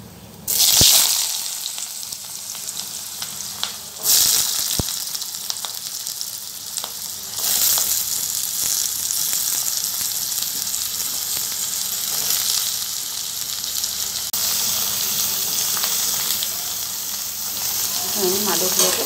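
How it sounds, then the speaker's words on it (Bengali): Potatoes fry in hot oil in a home kitchen pan, giving a steady, loud sizzle that runs throughout with occasional stirring scrapes and louder bursts near the start. "তেলের মধ্যে আমি এখন আলুগুলো ভেজে নেব।"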